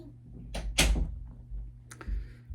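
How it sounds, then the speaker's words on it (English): An indoor door being closed: a couple of soft thuds and a latch click, fairly quiet over a low hum. "Close the door."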